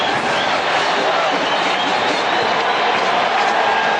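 A dense, steady roar of a packed football stadium crowd cheering at a 1988 Raiders at Saints NFL game, loud and continuous with no letup, broad and enveloping from all around.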